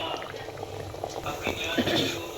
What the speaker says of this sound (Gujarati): સરસ મજાની ગ્રેવી ઉકળી ગઈ છે